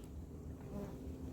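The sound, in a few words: Firetail resin bees buzzing at native Australian bee hive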